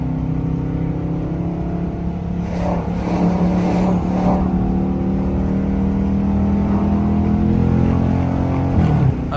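A car engine revving steadily under load as the driver upshifts with paddle shifters, a loud continuous drone close up with a brief change in pitch at the shift near the end.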